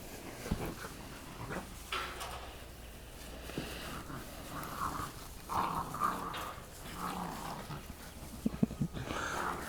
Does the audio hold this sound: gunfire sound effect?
no